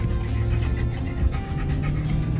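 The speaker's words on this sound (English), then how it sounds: "Two doggies." Two dogs, a Golden Lab and a Schnauzer, pant steadily and close up during a family hike, against a dense, noisy background.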